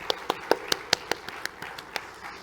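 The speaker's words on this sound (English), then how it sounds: "I'd like to offer them a round of applause right now" A handful of sharp, separate claps ring out at an academic awards presentation, fairly sparse and quiet, from just a few people rather than a full crowd.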